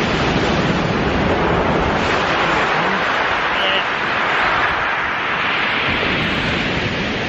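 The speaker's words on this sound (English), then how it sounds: "I've got to keep an eye on these waves just bashing over the top." Sea waves crash and wash continuously on a shingle beach at Shingle Street, a loud steady roar of surf with no clear breaks.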